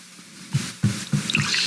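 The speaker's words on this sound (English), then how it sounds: "Pour me some more too." A drink is poured into a glass during a podcast recording, with a few short, quiet splashes and drips in uneven bursts and no talking.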